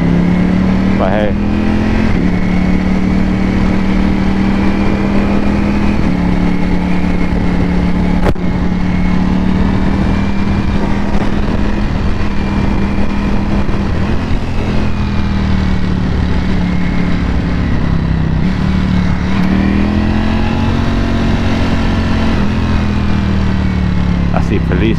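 A Ducati Panigale V4S motorcycle ridden through London city streets, its engine droning steadily and loudly throughout with rising and falling revs, close to the rider, while someone talks over it.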